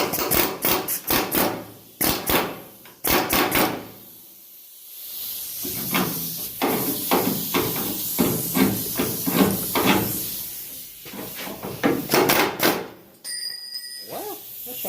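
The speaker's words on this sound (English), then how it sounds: "There's an old air chisel right here." An old air chisel hammers on the metal body of a wrecked 1967 Mustang in sharp, loud rattling bursts separated by short pauses and quieter hissing stretches.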